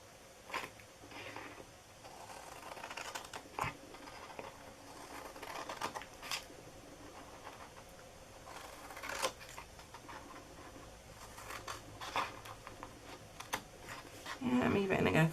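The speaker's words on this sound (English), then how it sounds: "And I'm even going to cut a tiny bit off these ends here." Paper is snipped to trim the ends for a baby favor gift box, with scattered quiet scissor cuts and rustles at close range that end in a louder crinkle.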